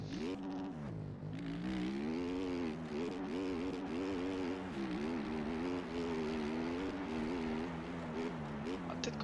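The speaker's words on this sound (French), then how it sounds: "j'entends des motos là" Steady engine whine with shifting pitch from motocross bikes racing in the video game MX Bikes, continuous and fairly loud throughout.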